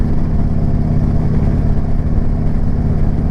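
A motorcycle cruising at steady speed in its highest gear gives a continuous, loud, low engine drone with a steady throb and no clear change in revs.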